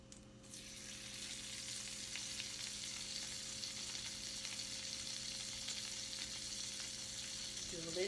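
Butter melts in a pan ahead of pancakes with a soft, steady sizzle that runs continuously and fairly quietly, with a faint low hum underneath.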